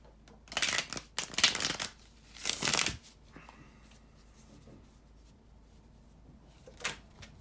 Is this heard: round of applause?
no